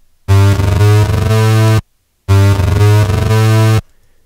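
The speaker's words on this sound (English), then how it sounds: "These are just very short staccato notes, and combined with this envelope, this creates a nice stuttering effect." Two bursts of distorted electro bassline synth in Reason, each a rapid run of short staccato notes that stutter in place, separated by a brief silence.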